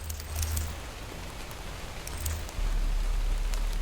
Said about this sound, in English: That rain sounds good.